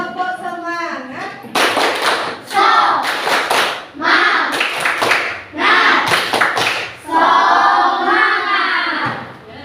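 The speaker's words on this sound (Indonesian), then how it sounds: "kita tepuk semangat dulu ya. Tepuk semangat." A classroom of students performs a rhythmic Indonesian 'tepuk semangat' clapping chant, with sharp bursts of claps in patterned groups alternating with chanted voices, loud and close throughout.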